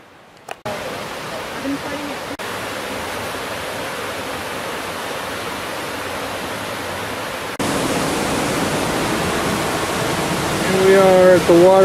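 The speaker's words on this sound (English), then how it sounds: "Waterfall in Halawa Valley." A major waterfall in Halawa Valley, Molokai, roars as a steady rushing wash that grows louder partway through, with brief voices at the end.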